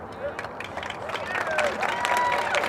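An audience at a SOAR political event claps and cheers amid crowd murmur, a short burst of applause rising in loudness over a few seconds with voices and shouts mixed in.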